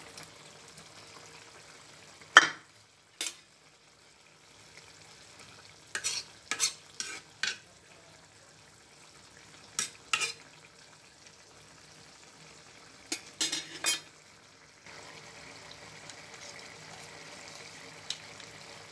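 Ripe bitter gourd stir-fried with fried prawns in a pan: a soft steady sizzle runs throughout, broken by sharp intermittent scrapes and clacks of a stirring utensil, close and moderately loud, with no talking.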